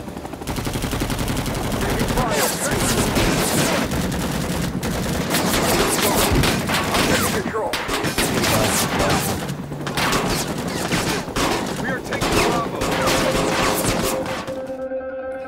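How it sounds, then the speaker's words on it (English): Dense small arms and machine gun fire in Rising Storm 2: Vietnam, loud, continuous and layered with heavy bursts and booms throughout, no speech. "The second thing is small arms and machine gun fire."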